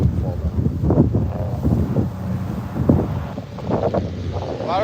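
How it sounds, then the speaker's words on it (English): Strong gusting wind buffets the microphone outdoors on a lake during spring crappie fishing, a continuous low rumble swelling and easing, with people talking in brief bursts over it. "A lot of wind gusts today, some big wind gusts"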